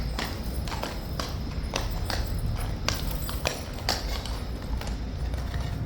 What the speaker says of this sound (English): Just hoping the horse doesn't come over to where I am.